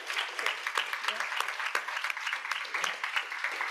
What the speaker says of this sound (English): I would like to have a warm applause for our other speakers this morning.